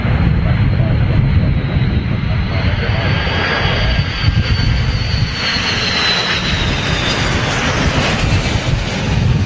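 An Airbus A330 airliner's engines during a go-around at London Heathrow, a loud sustained roar with a rising whine, heard from the ground while a person talks underneath.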